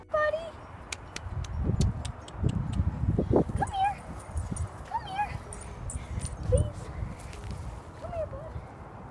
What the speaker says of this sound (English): So there's a dog and it's loose.